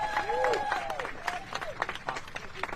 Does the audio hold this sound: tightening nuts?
no